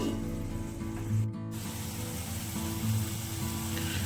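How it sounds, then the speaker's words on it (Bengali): A faint, steady hiss and sizzle rises as a little water is poured into simmering masala for a Bengali egg curry (dim kosha), with a low kitchen hum underneath. "এবার আমি দিয়ে দিচ্ছি সামান্য পরিমাণে জল।"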